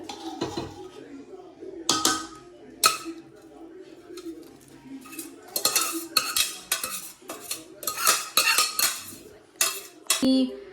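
Rice is spooned in layers over chicken biryani in a cooking pot, giving irregular metallic clinks, scrapes and knocks of a spoon against the pot, some sharp and close, with quieter gaps between.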